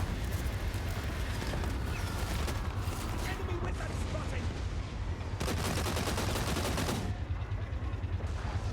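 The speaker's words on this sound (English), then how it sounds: "They should actually start opening fire on that giant bear over there sometime soon." Rifle volleys rattle through a Total War: Warhammer 3 battle, dense, continuous gunfire crackling over a thick, noisy battlefield din, with bursts swelling loudest toward the middle and tailing off near the end.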